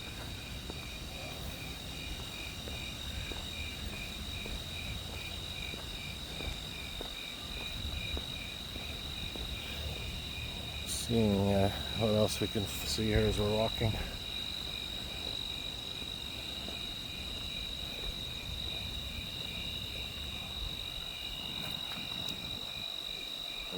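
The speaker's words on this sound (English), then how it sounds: "And you can hear the crickets." Crickets chirping at night: a dense, steady high trill runs without a break from start to end. Someone speaks briefly in the middle while walking outdoors.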